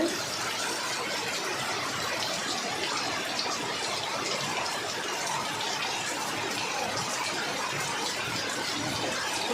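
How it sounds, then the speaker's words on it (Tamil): Water flowing steadily in a village setting, a dense, continuous broadband rush like a gushing channel or tap stream, loud and close, running alone without any voices. "இது பாருங்கள் இன்னும் தண்ணி நல்லா வந்து"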